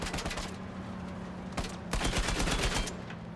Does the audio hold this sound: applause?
no